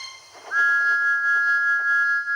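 A steady, high train whistle sounds for about two seconds, loud and close, with a faint rumble beneath it.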